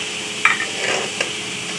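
Coarsely crushed green chillies fry in a karahi with a steady soft sizzle, broken by a couple of brief scraping stirs of a spoon against the pan.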